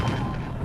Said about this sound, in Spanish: El sonido de las explosiones asustaba a los caballos.